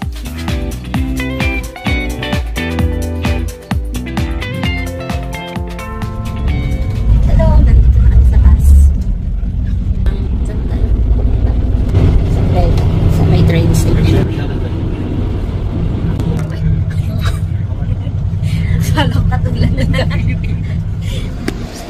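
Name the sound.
traffic and buses at a Rotterdam bus station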